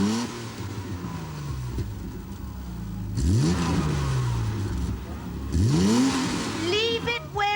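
A car engine revs repeatedly with added throttle, rising and falling in surges while voices talk over it in a domestic outdoor setting.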